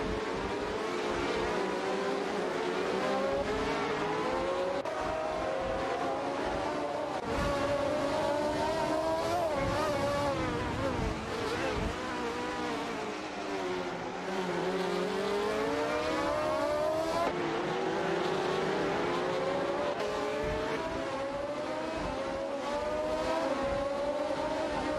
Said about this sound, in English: Runner Rampage has made a smooth move into Pate, effortlessly overtaking Shootin' Up